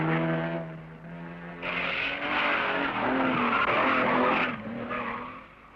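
A Ferrari GTO race car driving on the track, its engine loud and close, holding harmonic notes that rise and fall through gear changes as it passes, with no talk.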